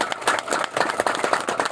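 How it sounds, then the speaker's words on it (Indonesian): A church audience at a groundbreaking ceremony claps steadily, a dense, continuous patter of many hands heard fairly close. "Saya ajak kita tepuk tangan yang panjang untuk waktu ini"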